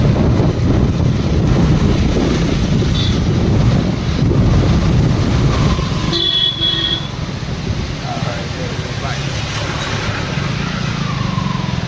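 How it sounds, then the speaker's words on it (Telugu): Water pours from the opened gates of the Srisailam dam in a steady, loud roar that blends with strong wind buffeting the microphone, with people talking faintly underneath. "నీళ్ళు పడుతున్నాయి. మొత్తం గేట్లు ఓపెన్ చేస్తారు"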